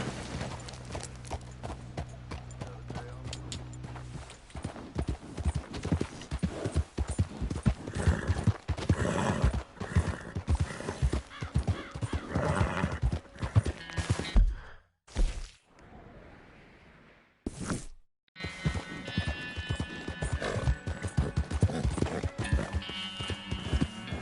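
Horse hooves clip-clopping in the FIFA 19 game world, with a horse neighing and snorting, uneven bursts of hoofbeats and a few abrupt drops to near silence, no talk.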